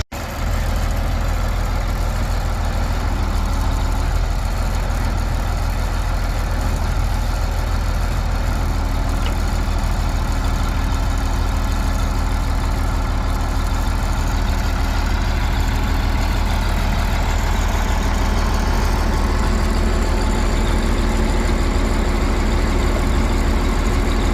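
A tractor engine drones steadily throughout, loud and close, with a deep constant rumble while raking hay in a field, and no talking.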